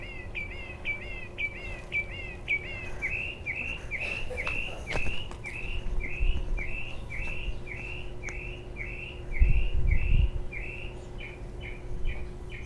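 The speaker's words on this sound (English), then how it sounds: "You can hear the birds back here." A bird repeats a rapid series of bright, clear chirps close by, steady and rhythmic, with soft rustling and faint outdoor background noise.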